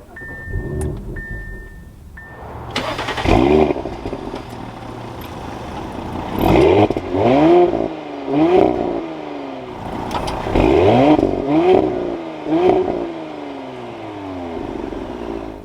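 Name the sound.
2021 Audi SQ5 engine starting and revving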